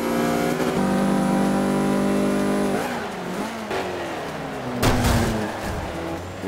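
A Mazda MX-5 Cup race car in Forza 5 accelerates hard off the line with a loud, rising engine note through gear changes, followed by tire squeal and skidding noise, up close and with no talk.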